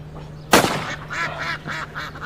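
A duck gives several loud, nasal quacks near the listener during a duck hunt, first a sharp burst and then a run of shorter calls over a low steady hum.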